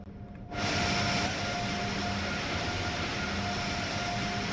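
An Amtrak Acela Express train in Train Sim World 4 powers up and starts accelerating: after a quiet moment, a loud steady electric whine and rumbling hum swell in and hold, with a sustained tonal drone.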